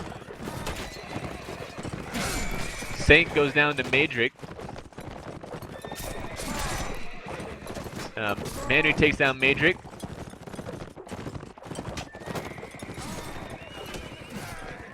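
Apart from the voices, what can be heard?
horses neighing and galloping in a video game battle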